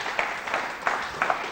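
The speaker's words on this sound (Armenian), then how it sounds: "Ծափարենք տիկին Ռիմային և տիկին Իրինային" Scattered clapping from a studio audience greeting two women guests, a handful of distinct claps rising out of a softer background patter, fairly close and moderate in level.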